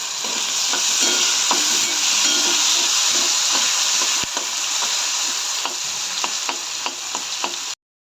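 Green chillies and curry leaves fry in a pan with onions and potatoes for kande pohe, a continuous close sizzle and hiss broken by light scraping stirs, then cutting off abruptly.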